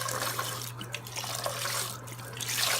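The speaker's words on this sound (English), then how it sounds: "I'm going to add some beef broth to this." Beef broth poured into a hot pan for a steak and kidney pie filling: a continuous close splashing, gurgling flow of liquid lasting the whole moment, over a steady low electrical hum.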